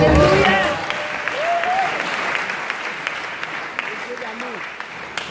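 Church congregation applauding, a sustained wash of clapping and crowd noise with voices calling out over it at the start and again briefly later.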